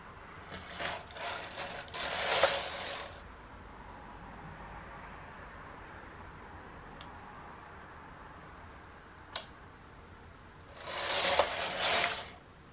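A knitting machine carriage sweeps across the bed in two loud, rattling, mechanical passes while knitting a dress shoulder, separated by quiet with a couple of sharp clicks.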